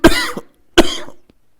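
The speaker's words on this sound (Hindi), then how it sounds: "खांसी हो गई है।" Two sharp, loud coughs close by, separated by a short pause, each trailing off quickly.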